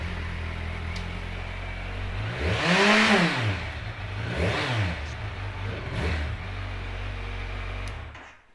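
A 2017 Kawasaki Z1000SX ABS sport-touring motorcycle with only 3,884 miles, fitted with three-piece luggage, running close by: one big throttle blip and a second quicker rev, each dropping back to a steady idle, with no talking.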